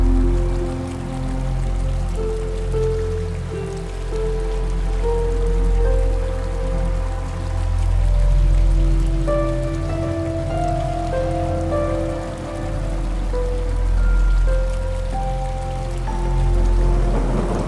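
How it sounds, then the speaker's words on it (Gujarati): Steady rain falls in the Matheran jungle, a continuous patter of drops on surfaces under a low background rumble, with faint tonal sounds drifting through and no talking. "વરસાદ તો એકદમ ચાલુ જ હોય છે."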